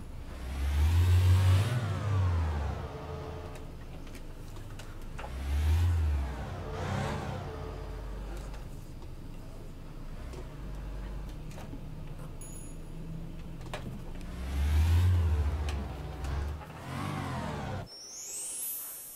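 A car engine in the City Car Driving game, played with a Logitech G27 wheel, starts and revs hard several times, rising and falling in pitch between quieter idling stretches, loud and close, ending with a brief high whine.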